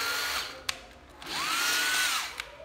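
A used Japanese cordless drill runs in its slow mode, a brief whirring whine that spins up, holds a steady pitch for under a second, then winds down, with small clicks around it.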